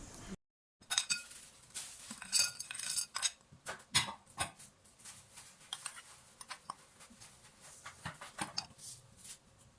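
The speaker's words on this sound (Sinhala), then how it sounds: "දැන් මේ සේරම කලවම් කරන්න පුළුවන් භාජනයකට එකතු කරනවා." Christmas cake ingredients, including butter and eggs, are added to a mixing bowl and stirred, making quiet, scattered clinks, taps and scrapes of a utensil against the bowl, close by.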